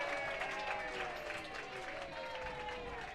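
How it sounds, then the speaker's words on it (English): Baseball fans at a playoff game give a sarcastic cheer after a called strike, a steady wash of distant crowd applause and voices lasting a few seconds. "a sarcastic cheer from the fans"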